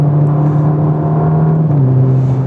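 A Ferrari Roma engine in race mode holds a loud, steady droning hum with a slight pitch dip midway, close and continuous with no voices.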